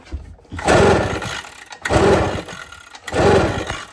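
A 72cc backpack blower engine is yanked by its pull cord three times, each pull giving a rough, loud, roughly one-second sputtering burst with short pauses between.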